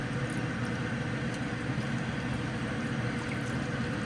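A steady, quiet stream of chicken broth pours continuously into a pot, a soft even wash of sound with no voices.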